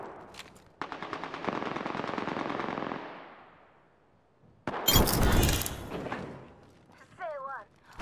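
Automatic weapon fire in the video game Apex Legends: a sustained rapid burst of gunfire, then a second loud burst a moment later, with in-game voice lines and effects between and after.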